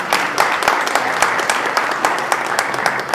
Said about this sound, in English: A round of applause for Senator Savino.